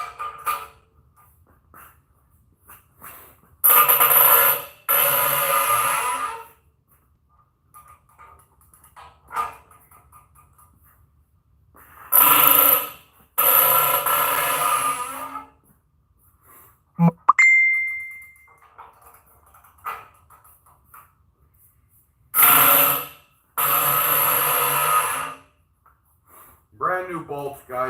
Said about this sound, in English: That noise you're hearing is the brand new bolts just stretching.